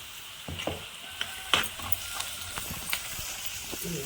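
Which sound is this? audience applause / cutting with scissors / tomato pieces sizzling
tomato pieces sizzling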